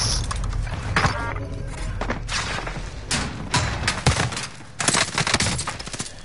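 Rapid bursts of gunfire and heavy thuds crackle through a game shootout, shots coming in clustered volleys with brief lulls, loud and close throughout.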